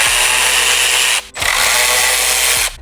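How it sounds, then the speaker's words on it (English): Loud, close whirring of a power ratchet backing out T20 Torx bolts on a 2019-2023 Chevrolet Silverado/GMC Sierra dash, two sustained runs split by a brief pause. "I do not recommend using this power ratchet if you are not extremely comfortable with it like me."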